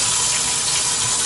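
Hot water runs steadily from a kitchen faucet into the sink under strong building water pressure, a loud, continuous broadband rush that holds even throughout with no voices.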